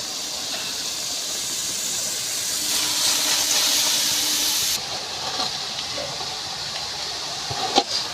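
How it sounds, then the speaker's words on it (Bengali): Cabbage goes into a pan of fried, turmeric-spiced masala for a fish-head cabbage dish, giving a steady loud hiss of sizzling that drops in brightness midway, with a few faint clinks near the end. "আমার মশলাটা কষানো হয়ে গেছে এবার আমি দিয়ে দিচ্ছি বাঁধাকপি"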